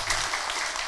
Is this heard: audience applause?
yes